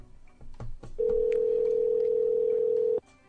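Phone line tone during a repeat call to someone: one long, steady electronic beep lasting about two seconds, clear and alone after a few soft clicks and faint background noise, then cut off abruptly.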